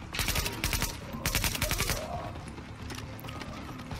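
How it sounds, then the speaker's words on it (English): Automatic weapons fire in the shooter game Tom Clancy's The Division, with loud rapid bursts of gunshots in quick succession early on, then fading into lighter scattered shots against a background din. "there's something shooting his gun"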